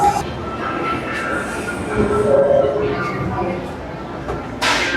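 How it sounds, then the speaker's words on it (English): The VelociCoaster roller coaster train at Universal Orlando rumbles along its track with a brief metallic wheel squeal, a steady mechanical roar underneath while people talk nearby. "I don't think there's anybody driving this train."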